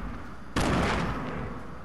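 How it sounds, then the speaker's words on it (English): A sudden loud blast bursts out partway through a Fortnite Blitz mode match, followed by a sustained rumbling roar of game explosions that slowly fades, with no talking. "Ah, explosions!"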